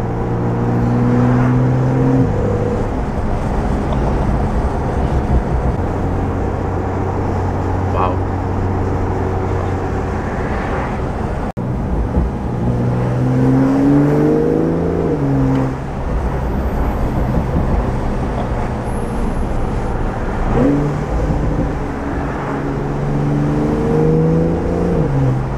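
A Porsche Carrera T heard from inside as it drives, its engine rising in pitch through repeated acceleration runs and dropping at each quick, smooth PDK gearshift, steady and fairly loud throughout.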